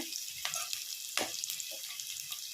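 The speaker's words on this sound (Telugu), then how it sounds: "పెనంలో ఆయిల్ వేసుకొని ఆవాలు కొన్ని వేసుకొని కరివేపాకు ఒక ఆనియన్ కట్ చేసుకొని బాగా ఫ్రై చేసుకోవాలి" Onion frying in oil with mustard seeds and curry leaves for an Andhra-style okra curry, a steady hiss of sizzling oil broken by a few sharp spatula scrapes and pops, close and fairly quiet.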